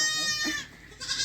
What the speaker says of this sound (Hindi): ये बकरी अब पीछे पीछे घूम रहा है।